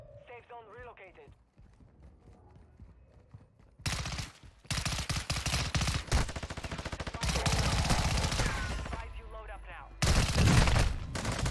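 Pistol gunfire in a battle royale video game, rapid strings of loud sharp shots in several bursts, preceded by a short stretch of speech and quieter game sounds.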